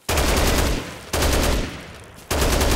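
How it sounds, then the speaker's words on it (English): Heavy machine gun firing in the Dead Rising Deluxe Remaster video game: three loud, sustained bursts of rapid automatic fire, each cut off abruptly, with brief gaps between them. "How the hell are you holding a damn heavy machine gun, Frank?"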